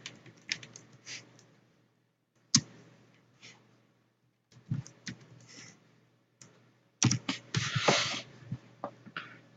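Bursts of computer keyboard typing, close and fairly quiet, with rapid clicky keystrokes in irregular clusters separated by short pauses, with a denser flurry near the end.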